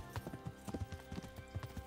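Horse hooves clop steadily at a riding pace in the video game Kingdom Come Deliverance, close and rhythmic, with a low background hum and no talking.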